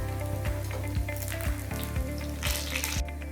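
Bread slices fry in hot ghee with a steady, loud crackling sizzle and occasional soft clicks throughout, with no voices.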